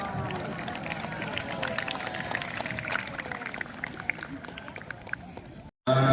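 Applause from a school audience at a morning Islamic student club talk show, a dense, steady patter of many hands close by that holds for several seconds before cutting off abruptly.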